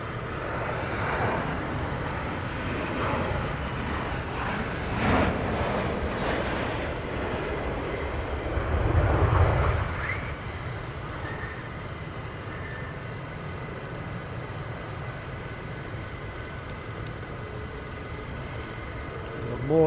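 Fighter jets taxiing at RAF Lakenheath give a steady, distant engine roar that swells briefly around the middle before settling back to a continuous drone, with no talk over it.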